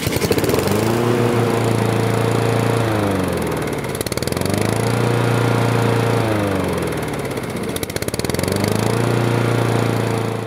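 A small engine treated with a Seafoam fuel additive runs loudly and steadily close by, its pitch rising and falling in slow revs every few seconds.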